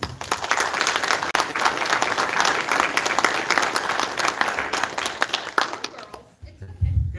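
Audience applause for young ladies moving on to the next level, a loud dense roll of clapping from a crowd, sustained for several seconds before cutting off, with a voice speaking near the end.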